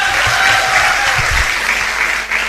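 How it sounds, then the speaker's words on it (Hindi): Applause from an audience at a business gathering, a steady wash of clapping at moderate loudness, with brief low voice sounds mixed in early on. "तो जोरदार तालियां दोस्तों।"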